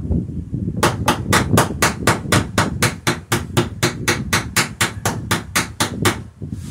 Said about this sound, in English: It's not quite as firm a hit, so it maybe takes a couple more taps. To form a rivet.